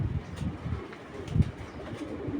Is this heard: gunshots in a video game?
no